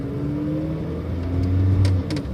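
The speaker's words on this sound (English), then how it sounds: "I start to drive the car." A 1989 Honda Prelude Si engine hums steadily and then rises in pitch as it accelerates, with a few faint clicks near the end.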